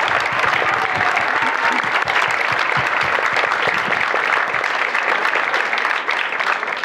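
Steady applause from a conference audience fills the whole stretch, a dense continuous patter of many clapping hands.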